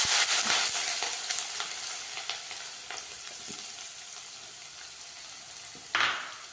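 Chopped ginger frying in hot oil with mustard seeds and dried red chillies, a close, steady hiss and sizzle throughout, with a brief louder scrape-and-spatter burst near the end.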